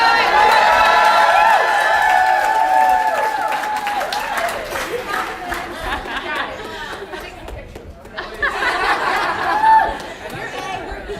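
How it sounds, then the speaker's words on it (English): A crowd cheers and chatters loudly, with whoops, clapping and lively voices overlapping for several seconds, then briefly dipping before rising again. "Everybody cheer her on."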